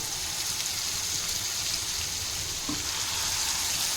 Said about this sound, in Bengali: চিকেনগুলো ম্যারিনেট করা আছে, সব এইভাবে ভেজে নেব।